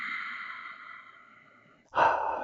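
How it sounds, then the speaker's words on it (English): Slow, audible breaths during a yoga forward fold, a long airy exhale fading out, then a sharp fresh inhale, close and unhurried with no talking. "Just breathing"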